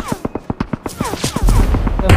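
Rapid bursts of PUBG Mobile gunfire crack in a quick rhythm, loud and close, with a heavier rumble building toward the end.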